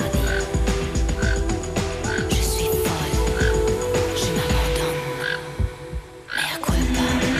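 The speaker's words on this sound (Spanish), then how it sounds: "La voz de los tucanes es muy pobre, pues emiten un monótono sonido que nos recuerda al croar de una rana" Toucans in Paraguay give a monotonous, frog-like croaking call, repeated short notes at a steady rhythm over a busy natural background.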